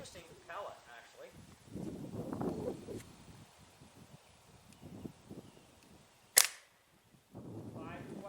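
Roebel B2-2 .22 air rifle firing a Prometheus rubber-jacketed pellet, one sharp crack standing out alone amid quiet talking that comes before and after it.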